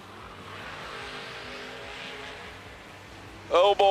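Drag racing cars, including a white Camaro, roaring down the strip at a racing event, a steady loud engine rush heard from a distance, with a brief sharp burst of announcer-style voice near the end.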